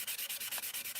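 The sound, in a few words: sanding an Airfix Concorde model kit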